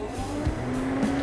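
A Ford Mustang running through functions during a scan tool diagnostic test, a steady mechanical hum and whir with faint shifting tones, close and continuous for a moment.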